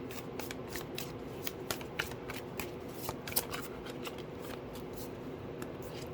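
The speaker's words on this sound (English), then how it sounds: "Did you see me shuffle, guys?" Tarot cards are shuffled repeatedly at close range, a quiet run of crisp riffling flicks and soft taps over faint room noise.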